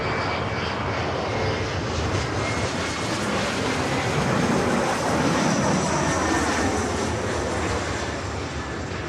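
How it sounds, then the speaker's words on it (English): A CRJ 700 regional jet departing from LAX, its engines giving a loud, steady broadband roar that holds for several seconds with no voices over it. "up next, it's like a CRJ 700"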